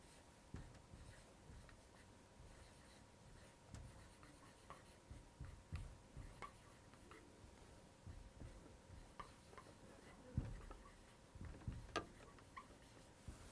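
Pen scratching steadily on paper by hand during a lecture, soft continuous strokes with occasional taps and ticks, fairly close and quiet.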